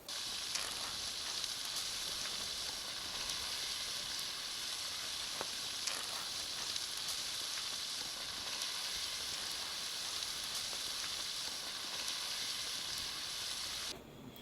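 Roasted garlic and herb food sizzles steadily over low heat in a lidded pan at a campsite, a constant close frying hiss with occasional small pops, no voices.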